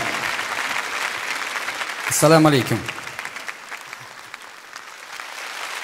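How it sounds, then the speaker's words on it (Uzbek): An audience applauds at a concert welcoming a guest singer from Baku, Azerbaijan, a dense steady clatter of clapping throughout while a man briefly greets the crowd over it. "mehmonga ham shunaqa qarsak chalaman"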